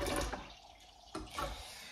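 Water runs again from a household supply after it had run out, a close splashing gush that fades, then surges back briefly, with no voices.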